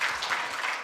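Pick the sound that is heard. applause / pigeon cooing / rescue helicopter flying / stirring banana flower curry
applause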